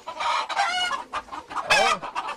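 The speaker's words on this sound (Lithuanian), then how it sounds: "vištų orkestras" A flock of farmyard hens and roosters clucks and squawks nearby in overlapping bursts, with one louder rising cackle near the middle, no voices over them.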